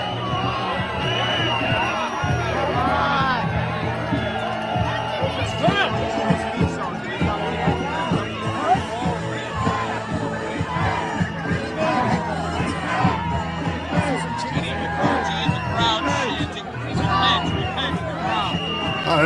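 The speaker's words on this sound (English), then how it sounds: "Oh, in a crowd, chanting." A crowd of protesters chants with many loud, overlapping voices, forming a dense, steady roar that continues for the whole stretch.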